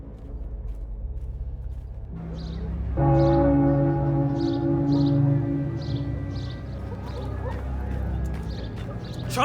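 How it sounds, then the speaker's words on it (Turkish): An alarm bell rings out in a Viking-era village in an animated scene, with steady bell tones struck over and over against a low rumbling background and a sustained musical drone. "Çanı duydunuz."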